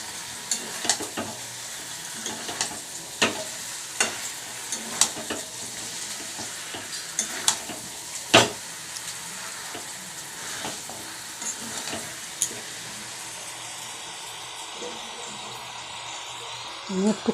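Potatoes added to meat frying in oil, with a constant close sizzle and scattered scraping stirs and clinks of a utensil.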